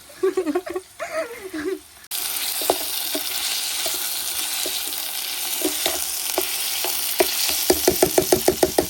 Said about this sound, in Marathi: आता मी कांदा टाकते. असा आवाज आल्यावर समजायचा हा म्हणजे काहीतरी होते.